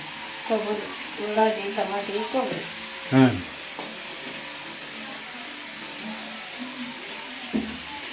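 Steady frying sizzle from a pan fills the background while people talk over it, with a brief louder clatter partway through.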